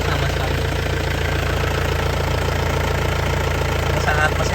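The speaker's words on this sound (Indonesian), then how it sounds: "Ini saat mesin nyala lur ya." A 2003 Toyota Touring turbo manual car engine idling steadily, a continuous low rumble heard close up with no change in pace throughout.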